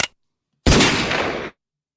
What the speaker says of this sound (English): You hear that gunshot?